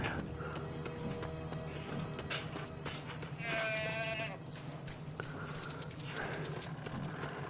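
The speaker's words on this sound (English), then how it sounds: "finding my missing goat" A goat bleats in the Lego The Hobbit video game, a short wavering call over steady game music and ambient sound.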